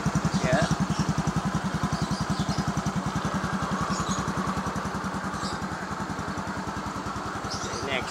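A Yamaha automatic scooter engine with freshly replaced piston rings idles steadily and close by, its rapid even thumping pulse continuing throughout with faint clatter on top.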